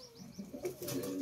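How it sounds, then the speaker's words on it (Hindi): A pigeon gives a soft, low coo, close by and quiet, with a little faint bird chatter around it. "कबूतर"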